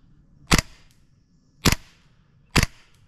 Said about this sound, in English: Let's do 4 shots per mag and then we'll read the last shot.